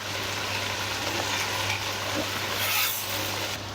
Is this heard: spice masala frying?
yes